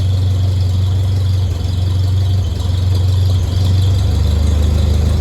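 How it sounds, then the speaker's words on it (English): Tractor engine idling while warming up before a show, a loud close low rumble with steady firing pulses, dipping briefly a few times, plus a faint high squeal running throughout with no talking. "So I'm going to let it run for a second. It needs to warm up"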